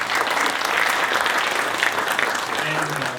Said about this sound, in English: And they need an applause.